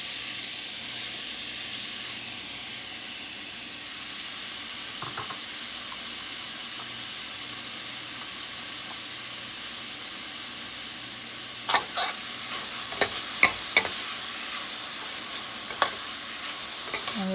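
Chopped onions sautéing in a pan, a steady broad sizzling hiss carrying throughout, with a few sharp scraping stirs and clinks near the end.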